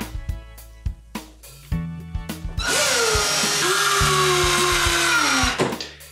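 A power drill drives screws into wood, opening with a string of short clicks and knocks, then settling into one loud continuous whir that bogs slightly in pitch before cutting off, close by with no voices.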